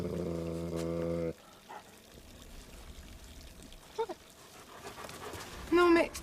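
A dog pants in short rhythmic breaths, heard close by at a low level after a loud sustained tone cuts out, with brief faint rustles and a sharper burst near the end.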